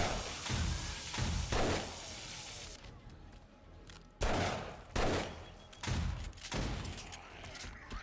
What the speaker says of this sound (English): You can hear the shotguns, can't you